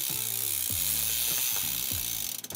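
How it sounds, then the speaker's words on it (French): Degreased bicycle chain pedaled backward through a chain-cleaning box with two brushes, giving a rapid rattling ratchet of freewheel clicks in repeating rhythmic bursts over a brushing hiss, close up. "on glisse la chaîne entre les deux brosses et on continue de pédaler à l'envers"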